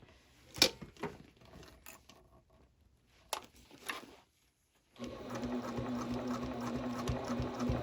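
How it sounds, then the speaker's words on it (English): A sewing machine stitches the exterior of a triple zip bag, first in short separate bursts with pauses, then running in one steady continuous stretch, close and fairly loud. "I'm going to sew the areas at the marks first, and then I'm going to sew everything in between after"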